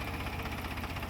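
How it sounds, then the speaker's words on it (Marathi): Tractor engine running while sowing maize in a field, a steady rhythmic low chugging with a pulsing throb, fairly close and continuous. "आणि चालू झाला ट्रॅक्टर आपला"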